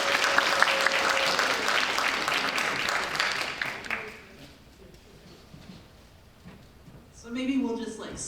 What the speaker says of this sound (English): let's give a big Crest TCU round of applause to Dr. Chavez.